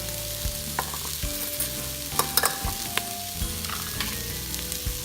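Chickpeas being mixed with chili powder, turmeric and coriander powder in an Instant Pot, with repeated scraping and clinking strokes of a spoon against the pot over a continuous sizzle, close up and without talk.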